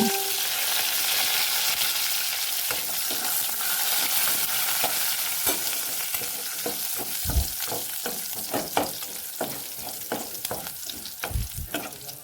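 Fenugreek seeds and curry leaves frying in hot oil for a prawn curry: a bright, continuous sizzle with crackling spits and bursts of sharper popping, close and fairly loud, with no voices.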